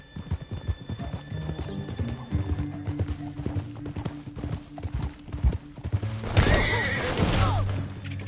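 Rapid hoofbeats clip-clop steadily, then a horse lets out a loud, drawn-out whinny near the end over a rumbling game soundtrack, in Red Dead Redemption 2.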